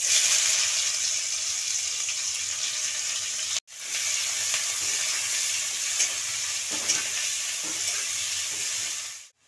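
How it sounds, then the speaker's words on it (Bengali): Onions fry in hot oil over a tempering of cumin seeds, bay leaf and dried red chilli for ghugni, giving a close, steady crackling sizzle that briefly cuts out once, without any talking. "ফোড়নটা হয়ে গেছে আমার, আমি পেঁয়াজগুলো দিয়ে দিচ্ছি।"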